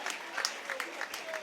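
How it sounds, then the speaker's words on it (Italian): Home football crowd at a Santa Maria Cilento versus Catania match clapping for a substituted player, a short burst of scattered applause with a commentator's voice over it. "altro giocatore che si è guadagnato gli applausi del pubblico di casa"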